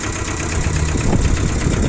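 A Yanmar UM1520D two-cylinder, four-wheel-drive Japanese mini tractor fitted with a rotary tiller idles close by, a steady low rumble with a rhythmic knocking chug and a rattling vibration.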